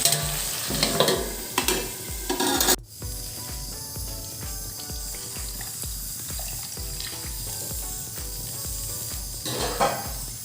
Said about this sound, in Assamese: তাৰপিছত আৰু 5 মিনিটমান সময় আকৌ ভাজিবলৈ দিম